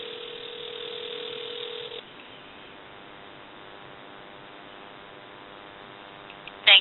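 Cordless GE 6.0 telephone, model 27909EE, gives a steady tone lasting about two seconds, then a quieter hum with a brief burst of higher noise at the very end.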